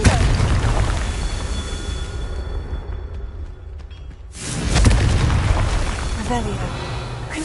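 Confringo blasting spell going off in a video game: a broad booming burst lands around the middle, after a loud rumbling stretch, amid steady game noise with talk over it.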